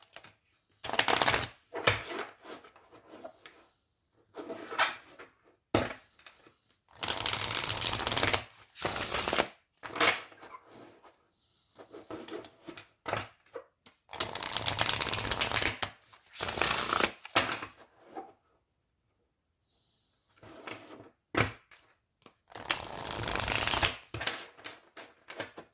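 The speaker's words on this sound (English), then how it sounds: "So I'm going to pull tarot just to get like a follow-up on this." Tarot decks being shuffled by hand in repeated bursts of riffling card noise, close and crisp, separated by brief pauses and quieter handling sounds, with no talking.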